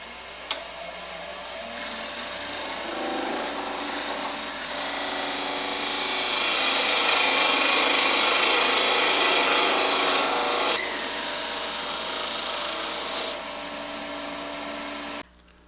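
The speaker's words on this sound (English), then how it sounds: "now part it off at the base." A lathe cutting tool parts off a turned model A10 30mm round at its base, a continuous scraping, rasping grind that swells louder in the middle over a steady motor hum, then stops abruptly.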